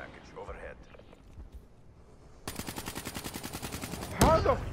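Rapid burst of automatic gunfire in the video game Black Ops III, a steady train of loud shots lasting a couple of seconds, followed by a sharp blast, with someone talking faintly beforehand.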